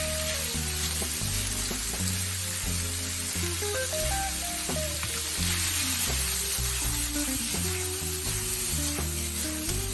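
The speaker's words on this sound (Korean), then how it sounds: "진간장 한 스푼을 태우듯 넣어 불맛을 입히고 골고루 섞어주세요." Soy sauce sizzles in a hot pan while ramen jjamppong with squid is stir-fried, a steady bright frying hiss running throughout beneath prominent melodic background music.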